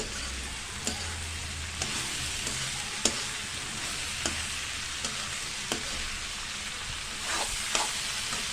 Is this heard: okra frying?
yes